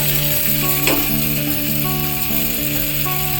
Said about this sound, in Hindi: तड़का लगाने के लिए हमने एक बटर का टुकड़ा लिया है